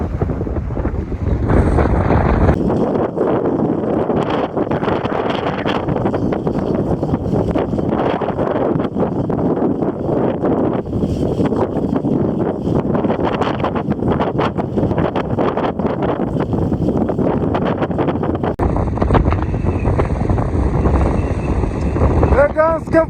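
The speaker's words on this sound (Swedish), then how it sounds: "Det är ganska blåsigt!" Strong wind roars continuously across a snowy mountainside in Vindelfjällen on a ski touring trip, buffeting the microphone loudly for the whole stretch.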